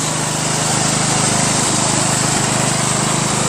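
A 1996 Craftsman LT1000 lawn tractor engine runs steadily nearby, a loud, even buzzing drone with a constant rapid putter and no pauses.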